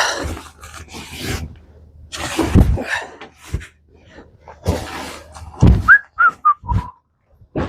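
A crew member on an expedition vessel whistles a few short, clear notes, close by, after scattered voices and bursts of work noise.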